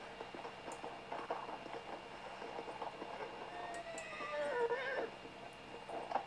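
A wild horse neighs in the Red Dead Online video game, a shrill whinny that rises and falls near the middle of the clip over a steady rumble of game ambience.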